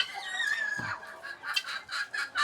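Several free-range country chickens cluck and squawk close by, overlapping calls with short sharp bursts, no talking.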